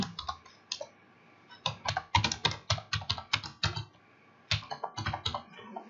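Keys clatter on a computer keyboard as a name is typed into an online form, with short bursts and quick runs of clicks separated by brief pauses, close and clear.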